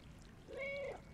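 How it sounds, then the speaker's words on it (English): A single drawn-out cat meow from the video game Stray, a clear rising-and-falling call standing alone over faint background hiss. "that's how I meow"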